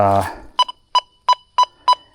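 An XP Deus II metal detector with an HF2 coil, swept over a small target at a 200-year-old relic site, gives five evenly spaced short electronic tones right after a brief burst of speech.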